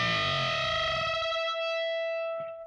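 A single distorted electric guitar note is bent up to unison with a second pitch, then rings out with bright, sustained overtones that slowly fade, close and alone.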